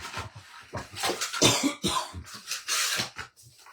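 A fit of repeated coughing and throat clearing, close and fairly loud, with several harsh bursts in quick succession.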